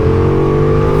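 Ducati Diavel V4 motorcycle fitted with an Akrapovic exhaust, its V4 engine running at a steady high rev, loud and close with a constant droning tone and no pauses.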